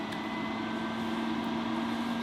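An RV roof vent fan runs on its high setting, producing a loud, steady drone with a pronounced hum, close and continuous, no speech.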